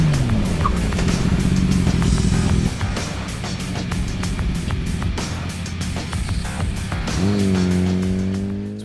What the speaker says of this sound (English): we're going to test our stock equipment at 40 miles an hour and measure the distance it takes to come to